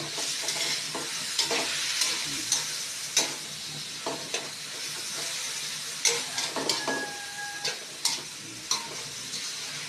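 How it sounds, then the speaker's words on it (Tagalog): Ginger, garlic, tomato and onion sautéing for a tamarind chicken soup: a constant bright sizzle close by, with sharp spatula taps and scrapes against the pan every second or so. "Habang ginigisa natin ng ganyan sa luya, bawang, kamatis, at sibuyas."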